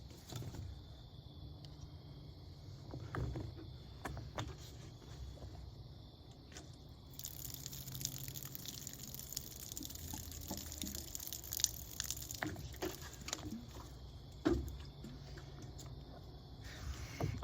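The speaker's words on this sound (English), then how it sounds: "So let's put this guy through our heavy rainstorm" A simulated heavy rainstorm hits a scent wick bottle with Code Blue scent: quiet handling and taps give way to a steady, close hiss of spraying water with scattered drips and splashes.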